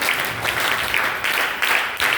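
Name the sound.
audience applause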